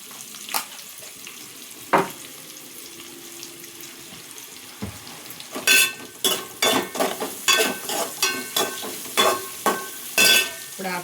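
Crushed garlic frying in oil in a pan for an amaranth, spinach and moong dal dish: a low, quiet sizzle, then a run of sharp spoon-on-pan scrapes and clatters in the second half.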